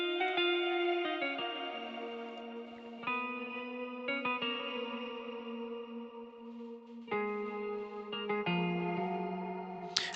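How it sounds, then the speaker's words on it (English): Ample Guitar LP virtual guitar plays a clean rhythm part of sustained chords in an emotional piano-led FL Studio beat. Chords change steadily over about ten seconds, soft and smooth with a chorus-like sheen, and no voices. "It's ample guitar LP, clean rhythm, both something,"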